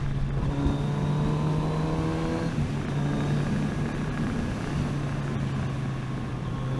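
A 2020 Kawasaki Z900RS motorcycle pulls away under throttle, its engine note steady and close, with a strong low drone and a shift in pitch partway through.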